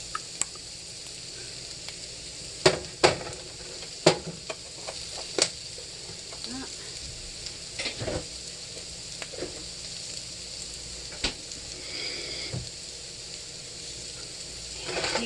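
Escargot snails sauté in a pan with a soft, steady sizzle, broken by scattered sharp clicks and scrapes of a utensil against the pan.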